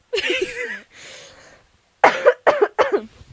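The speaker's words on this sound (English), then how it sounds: "Cough." Several sharp coughs, one loud cough first, then a quieter breathy one, followed by a quick burst of three coughs close to the listener.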